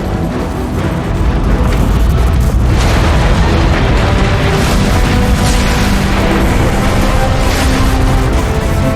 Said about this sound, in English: The neutron gun is activating!